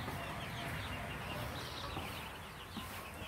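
Young chicks on a farm cluck and chirp in a continuous, busy chorus, fairly close and moderately loud with no pauses.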